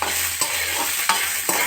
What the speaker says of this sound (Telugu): పొయ్యి మీద మూకుడు పెట్టుకొని ముందుగా జీలకర్ర, ఎండుమిర్చిని నూనెలో కాసేపు గోలనివ్వాలి